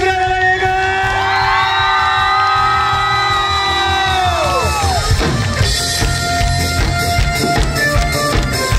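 Concert crowd at an accordion band show cheering and whooping loudly, with sustained shouts and yells, and after a few seconds some clapping and crowd noise take over.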